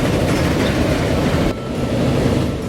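A train runs along rails in the video game Transport Fever, a loud, steady rumble and rattle of wheels that carries on without a break for the whole stretch.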